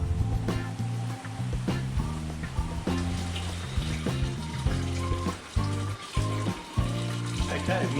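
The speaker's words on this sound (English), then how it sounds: "we start off by adding our water" Filtered Gold Coast water, 43 litres, pours into a home lager brewing vessel, a steady gushing stream with intermittent splashing and gurgling, while someone talks over it.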